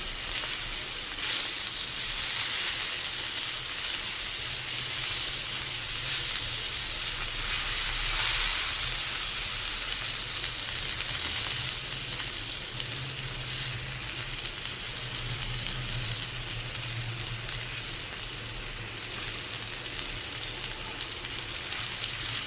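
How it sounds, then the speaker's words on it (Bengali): Raw tomato slices fry over high flame in a wok, giving a steady loud sizzle throughout with soft scraping and stirring as the slices are turned, no voices present. "একটা পিঠ হয়ে যাবো আর একটা পিঠ উল্টে দিতে হবে।"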